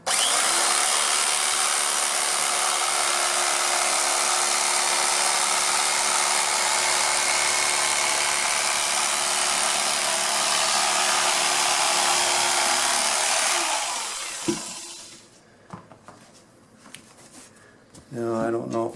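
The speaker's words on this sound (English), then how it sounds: "Always easy with this tool to sand more off." A power tool sands foam rubber being shaped into a motorcycle saddle seat, making a loud, steady high whirring grind that runs for about fourteen seconds and then cuts out, leaving a few soft handling noises.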